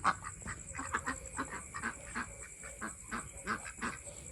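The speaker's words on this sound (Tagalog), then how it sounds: "Ito yung mga peking duck naman natin." Peking ducks on a small farm give a run of rapid, overlapping quacks and honks, moderately near but not loud, over a faint steady background hum.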